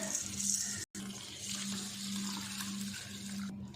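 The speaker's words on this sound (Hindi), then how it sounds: "चार पानी में हमने अच्छे से धो लिया" Basmati rice being washed in water, a steady running, tap-like wash with a low hum beneath, close and continuous apart from one brief cut.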